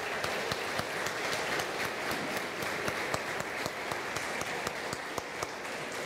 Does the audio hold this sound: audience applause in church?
yes